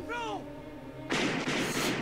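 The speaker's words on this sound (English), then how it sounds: "The gun sounds like 80s." Gunfire in an 80s action film: a speech-like tone at the start gives way to a loud, sustained burst of broadband blasts and crackling shots.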